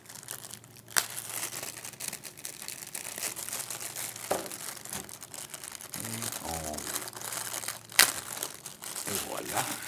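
Plastic packaging of a 2012 Fujifilm XP150 compact camera crinkles and crackles steadily while being opened during an unboxing, with a few sharper snaps and a person talking throughout.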